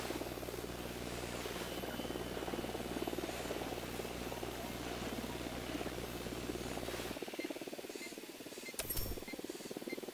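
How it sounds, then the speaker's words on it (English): A helicopter approaches in the video game Ghost Recon Wildlands, a steady low rotor drone under faint ambience that cuts off abruptly near the end, followed by a sharp metallic clink. "Chopper inbound."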